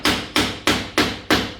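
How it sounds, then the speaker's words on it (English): Five sharp, evenly spaced hammer taps drive a wooden wedge under a door during a French door install, each strike close, loud and ringing briefly before the next. "And then you just tap her up until she's nice and tight."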